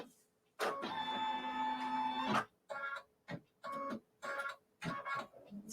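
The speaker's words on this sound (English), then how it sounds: "It's going to stitch right down in the middle to create our two sections for us." Sewing machine stitching a seam down the middle of a St. George's cross quilt block, with a steady motor whir followed by several shorter start-stop runs, close and clear, with no talking.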